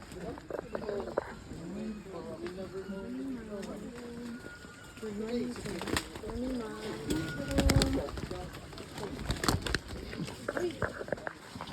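A pigeon cooing in soft repeated phrases at a safari park, close and mid-level, with people talking over and around the calls.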